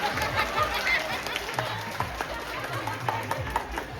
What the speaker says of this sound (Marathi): एकदा जोरदार टाळ्या दीपकसाठी होऊन जाऊ दे